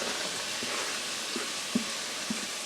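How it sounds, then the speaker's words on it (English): Onions sizzle steadily in a hot pan for a venison ragu, a bright crackling hiss with a few soft knocks of stirring. "So we're just going to sizzle this around."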